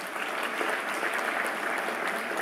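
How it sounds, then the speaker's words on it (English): An audience at the ICAS VIII inauguration ceremony applauds steadily after an address by Bill Gates: a dense, even wash of many hands clapping at moderate volume, without talk. "Please give him a big round of applause"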